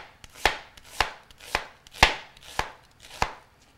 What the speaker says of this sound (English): We're just going to take that half of an onion and we're going to start slicing it like so